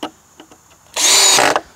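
A power drill whirs loudly for about half a second as it drives a screw into a floor frame for a carport, after a few faint clicks and taps.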